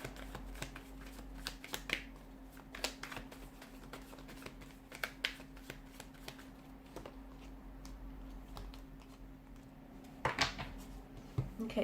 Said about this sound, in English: I just want to pull a few more cards to crown the reading.